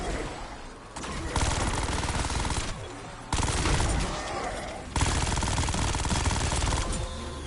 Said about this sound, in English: War machine prepping fire.